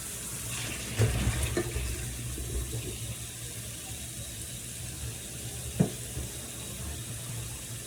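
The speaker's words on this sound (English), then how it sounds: "put them in a strainer and drain the water off" Steady rushing water pouring and splashing continuously as a pot of boiled potatoes drains into a strainer, with a couple of light metallic knocks along the way.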